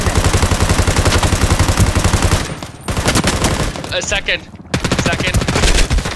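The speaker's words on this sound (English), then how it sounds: "There's more people shooting." Sustained rapid gunfire from several shooters in the video game Ring of Elysium, loud and dense, with brief gaps and a quick voice under the shooting.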